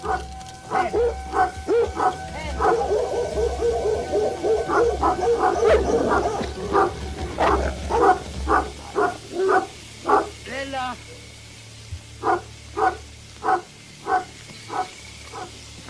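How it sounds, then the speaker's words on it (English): Livestock guardian dogs barking at wolves near drowsy herds, with repeated loud, evenly spaced barks, some overlapping yelps and whimpers, under a narrating voice with a low rumble behind. "but the guardian dogs drive the wolves away."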